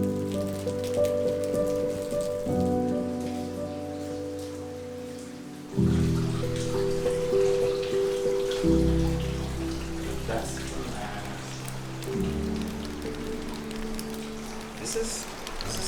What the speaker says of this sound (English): really heavy rain right now,